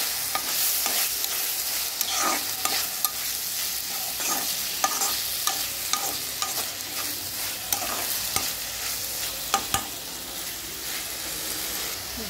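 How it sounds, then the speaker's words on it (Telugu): Tomatoes added to a frying okra curry (bendakaya) sizzle steadily in the pan while a spoon stirs them, producing frequent scraping clicks over a continuous hiss, close up and with no one talking. "టొమాటోస్ వేసుకొని ఒకసారి బాగా కలుపుకోవాలి"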